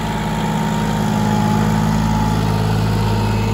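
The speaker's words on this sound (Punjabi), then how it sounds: "ਤੁਸੀਂ ਟਰੈਕਟਰ ਚੱਲਦਾ ਦੇਖੋ ਆਰਾਮ ਨਾਲ" A John Deere 5105 4WD tractor pulling a 24-disc harrow across a field, its diesel engine droning steadily and loud at close range, a constant low rumble with no pauses and no voices.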